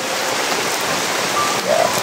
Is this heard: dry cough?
no